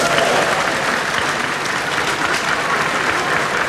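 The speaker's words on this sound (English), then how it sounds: "The spontaneous cheer and applause underscored the excitement of Ghana's Latter-day Saints." Ghanaian church members burst into loud, sustained applause and cheering, a dense wash of clapping that holds steady from start to finish.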